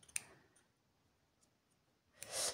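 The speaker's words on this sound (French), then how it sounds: "Donc là, c'est ciseaux normal." A few sharp, close metallic clicks from scissors separated by near silence, one at the start and a louder snip near the end.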